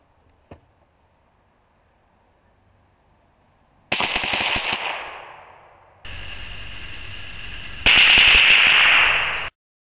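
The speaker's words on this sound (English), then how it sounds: "We're gonna take the Marlin Model 60 with the BMF activator and go all full auto on it." A Marlin Model 60 rifle with a BMF activator firing full-auto at apple juice. One sharp crack, then long rapid bursts of shots rattle off and trail into ringing echo. No voices.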